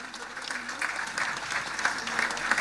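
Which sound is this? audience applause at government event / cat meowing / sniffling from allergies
audience applause at government event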